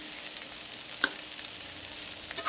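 Potatoes frying in a pan over a low flame give a steady, soft sizzle with a small crackle or two, no voices present.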